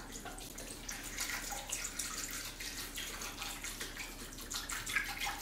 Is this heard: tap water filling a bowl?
yes